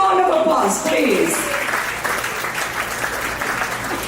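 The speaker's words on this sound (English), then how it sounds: "Give her a huge round of applause, please." Audience applause at a school reunion event in Chicago, clapping that starts under a voice and continues as a steady, moderately loud crowd sound.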